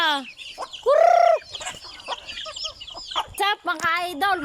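Gamecocks and roosters kept for cockfighting cluck and call in overlapping bursts, with one loud drawn-out crow near the start and sharper squawks later, close and lively, no clear talk.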